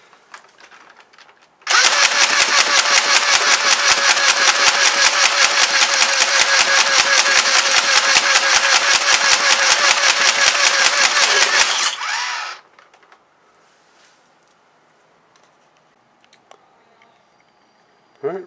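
A modified motorized Nerf Vulcan blaster with an upgraded spring and four-cell battery pack fires a long rapid burst of evenly spaced mechanical clacks for about ten seconds, loud and close, then stops, leaving quiet handling noises.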